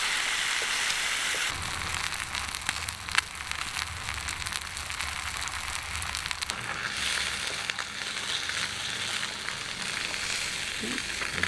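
Lamb chops pan fry with garlic and rosemary, a continuous close sizzle and crackle that grows brighter and more spattering partway through, with occasional faint scrapes.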